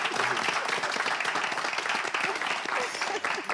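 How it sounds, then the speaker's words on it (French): A studio audience gives the champions a burst of lively applause, dense and continuous throughout, with some crowd noise mixed in. "On les applaudit, s'il vous plaît."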